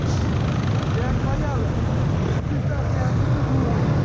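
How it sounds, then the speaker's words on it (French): Helicopter filming from overhead at a motorsport race at Le Touquet, its steady broadband rotor and engine roar loud and continuous throughout, with voices faintly mixed in. "coucou à l'hélicoptère, à Didier qui nous filme."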